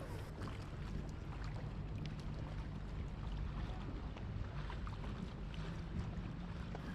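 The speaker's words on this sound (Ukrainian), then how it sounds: "случайно ми попали на цю гондолу і вирішили не гаяти час і поплили на ній" A gondola glides along a canal in Venice, with a continuous wash of water and wind noise filling the scene, steady and fairly loud throughout with no speech.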